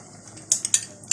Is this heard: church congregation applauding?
no